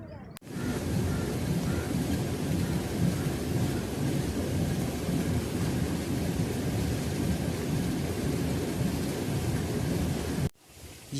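Water from a village stream runs down channels into a traditional water-powered flour mill, giving a loud, steady rushing roar that holds unbroken for about ten seconds before cutting off.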